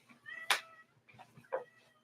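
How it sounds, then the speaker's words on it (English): Domestic cat meowing indoors, one loud clear meow followed by a couple of softer, shorter mews, fairly close with no talk over it. "I'm getting distracted by this cat."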